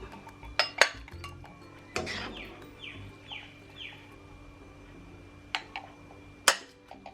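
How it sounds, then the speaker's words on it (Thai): Pumpkin and coconut dessert ladled into a serving bowl in a kitchen, with a few sharp clinks of ladle against bowl and soft scraping between them. "แล้วก็ตักเสิร์ฟนะคะ สุกเรียบร้อยแล้ว"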